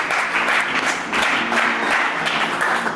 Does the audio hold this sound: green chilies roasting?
no